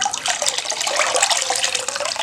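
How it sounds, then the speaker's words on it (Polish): Tap water runs steadily and close by while a filter sponge from a home aquarium is rinsed, a continuous bright splashing stream with no talking over it. "O, widzicie jaka czysta woda leci?"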